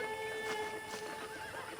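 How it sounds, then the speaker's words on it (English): A horse whinnies in the video game Red Dead Redemption, a single drawn-out neigh over a steady tonal background hum. "I picked out a fine horse for you."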